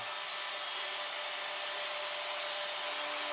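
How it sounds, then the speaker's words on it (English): A car wash style vacuum cleaner runs continuously with a steady, broad whooshing roar, close and unchanging. "This is our old car wash style vacuum cleaner"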